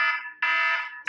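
A phone alarm reminder going off: a loud, steady electronic beeping tone in two pulses with a brief gap between, close and alone.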